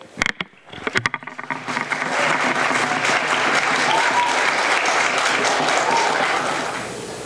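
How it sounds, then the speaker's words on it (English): An audience in a room breaks into loud applause for a recital of a poem at a university celebration of International Mother Language Day. After a few scattered early claps, the clapping swells into a sustained, dense round that fades slightly at the end. "Ladies and gentlemen, a round of applause for the recital."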